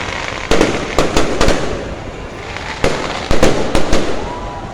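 New Year fireworks burst overhead at SM Baguio in sharp clusters of loud bangs and crackles, with a murmuring crowd of onlookers underneath.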